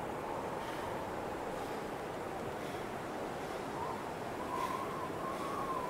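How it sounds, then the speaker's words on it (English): Steady, loud wind roars without a break through a snowy outdoor scene in The Long Dark, a broad rushing hiss that never eases. "the wind is a little prohibitive now"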